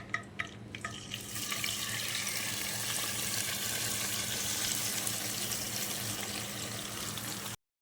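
Marinated beef dropped into hot oil in a karahi: a few brief knocks, then a sudden loud, steady hissing sizzle that holds evenly for several seconds before cutting off abruptly.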